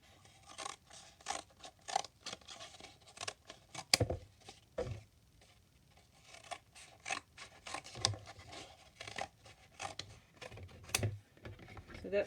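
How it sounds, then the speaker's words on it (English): Scissors snip a triangle from folded paper in a series of close, crisp cuts and rustles at an uneven pace, with short pauses between. "I've got my scissors, And I'll just cut a triangle,"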